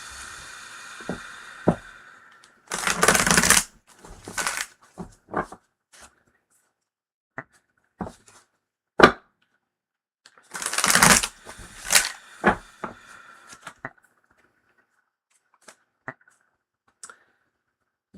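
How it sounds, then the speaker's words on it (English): Tarot cards are shuffled in two brisk riffling bursts, with scattered light taps and clicks of the deck between them, close and quiet with no talk. "Needs more shuffling."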